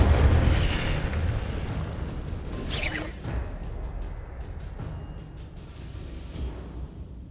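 A fire spell cast in the Hogwarts Legacy video game on PS5, a rumbling whoosh and burst of flame with a rising sweep near the middle, fading into a low crackling roar.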